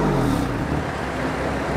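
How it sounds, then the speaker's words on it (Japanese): A BMW M4 coupe engine is revved hard and held high, producing a loud, dense, steady roar that sits close to the microphone for the whole moment. "エンジンどれぐらい回るか吹かしてみようか"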